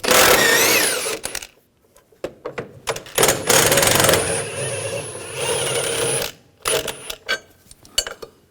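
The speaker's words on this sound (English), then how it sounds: "Now we're going to take this bar out, use a 15mm socket, take these bolts out." A 15mm socket on a ratchet removes the bolts from a bar over the high-pressure fuel pump of a 2007-2013 BMW X5 3.0L inline-six, heard as loud close mechanical clicking bursts separated by quiet pauses.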